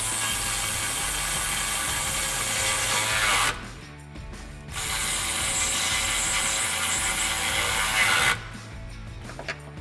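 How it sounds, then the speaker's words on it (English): A 13mm socket ratchet tightens exhaust hanger bolts on a 2015-2017 Mustang GT during a Magnaflow cat-back install, giving long, steady, buzzing mechanical runs close by with two brief pauses between them. "Now I'll take my 13mm socket and tighten these bolts that I started by hand."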